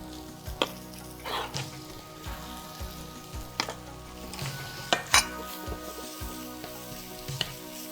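Finely sliced garlic and onions sauté in a pan, a soft steady sizzle punctuated by clinks and scrapes of a utensil against the pan, close and fairly quiet with no talking.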